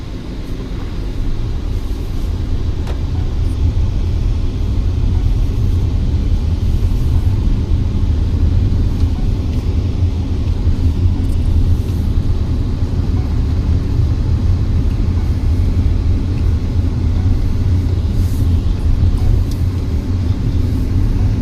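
Tata Sierra EV 75 kWh dual-motor electric SUV driving, heard from inside as a steady loud low road rumble with constant tyre and wind noise and no engine note.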